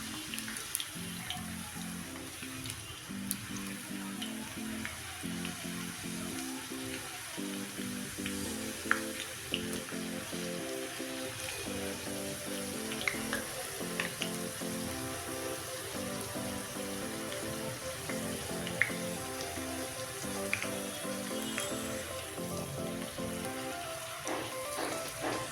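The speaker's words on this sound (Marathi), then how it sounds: "बघा अशा प्रकारे आपण सर्व हे चिप्स तळून घेऊ" Potato chips frying in hot oil, a steady close sizzle and crackle with a regular bubbling pulse that runs without a break and has no talk over it.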